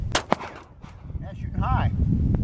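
Canik TP9SFX pistol fired with a red dot at a target 138 yards away outdoors, with two sharp cracks close together early on, then faint clicks and rustling as someone handles the gun.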